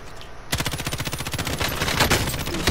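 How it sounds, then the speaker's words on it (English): Rapid automatic gunfire in a video game, a quick silence then a sustained burst of evenly spaced shots rattling on close and loud without pause. "Dude, I'm shooting him so many times."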